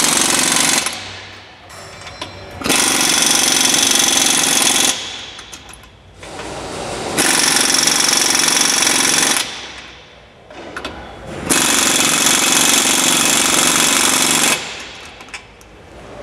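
A power impact tool tightens a loose rear leaf spring clamp nut (U-bolt) on a 2017 Toyota Hilux. It fires in three loud, sustained rattling bursts of two to three seconds each, separated by quieter gaps.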